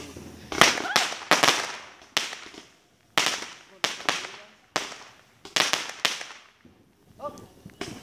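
Fireworks and firecrackers go off in a rapid series of loud, sharp cracks and bangs, some doubled, with short gaps between bursts and faint voices in the background.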